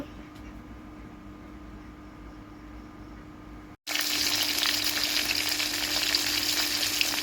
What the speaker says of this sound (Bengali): আমি ইলিশ মাছ ভাজছি